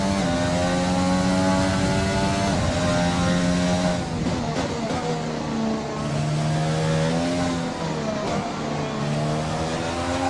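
Formula 1 car engine in the F1 2020 racing game at Monaco, a loud continuous high-pitched whine whose pitch climbs and drops through gear changes, alone with no speech.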